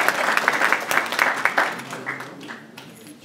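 An evening audience at a memorial learning event breaks into applause, dense clapping that is loud at first and then thins and fades toward the end.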